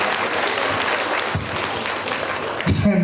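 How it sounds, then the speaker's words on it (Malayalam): A crowd at a stage event applauds. The clapping is dense and sustained, swells near the end, and is fairly close and loud. "മണിച്ചേട്ടൻ്റെ പാട്ടുകൾ ഇഷ്ടമുള്ളവർ ഒന്ന് കൈയടിച്ചാൽ നോക്കട്ടെ"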